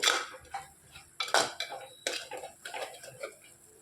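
A utensil scrapes and clinks against a pan as crab curry is stirred, making irregular metallic taps and scrapes, close and fairly quiet, with some sharp clatters in between.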